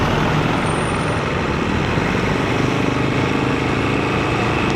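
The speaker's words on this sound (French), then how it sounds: "Il y a beaucoup de camions là qui cherchent à aller rejoindre également les routes nationales." Trucks driving at night in Antananarivo, Madagascar, make a loud, dense rumble of engines and road noise, a continuous broadband roar of heavy traffic passing close by with no gaps.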